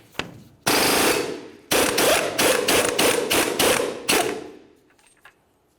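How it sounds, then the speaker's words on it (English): An impact tool spins off a front axle nut on a 2004-2015 Nissan Titan using a 32mm socket, in loud, close hammering bursts: one long run, then a rapid series of short pulses before it stops. "Continue removing the axle nut using a 32mm socket."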